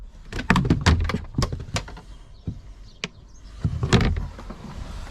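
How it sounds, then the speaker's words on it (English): A rusty Ford Transit van's sliding door clunks and rolls with several sharp metallic knocks and scrapes, close by, failing to open, followed by a heavier slam. "Sliding door, not opening."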